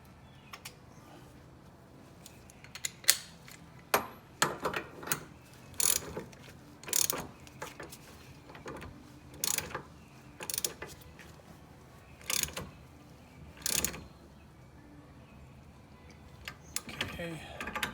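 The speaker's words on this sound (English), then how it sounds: "I can go ahead and tighten it down with my regular ratchet" Ratchet tightening a bolt on a Foxbody Mustang's front suspension during tie rod and A-arm work, a series of short, sharp clicking bursts spaced irregularly across the clip, close and fairly loud over a quiet background.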